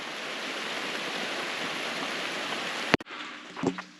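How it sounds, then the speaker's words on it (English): Steady rain falls outside a workshop, a dense continuous hiss for about three seconds before cutting off abruptly, followed by a few faint knocks and rustles nearby. "Nothing but rain, keeping me hunkered down in the shop."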